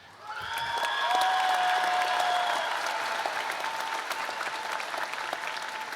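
An audience applauds a graduating student at the Fort Dorchester High School Class of 2024 ceremony. The clapping swells quickly and holds steady, with sustained musical tones ringing over the start of it.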